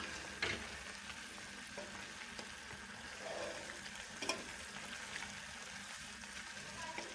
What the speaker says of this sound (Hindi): चम्मच की मदद से अच्छी तरह से इसको हिलाएंगे।